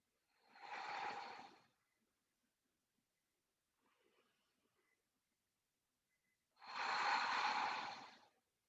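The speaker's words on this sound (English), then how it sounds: "Take 3 more deep cleansing breaths." Two long, deep breaths are drawn and let out slowly during a calm chair yoga session, each a soft, airy rush lasting about a second and a half, with near silence between them.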